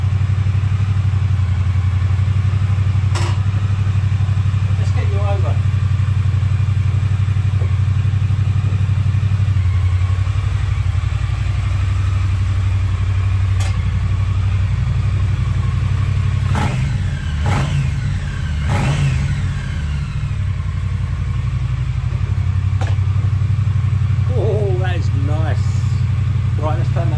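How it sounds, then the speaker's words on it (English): A 2020 Triumph Bonneville T100 motorcycle engine idles with a deep steady thrum, rising in a few brief revs and clattering pops, while someone speaks over it now and then. "That is a lovely sounding motorcycle."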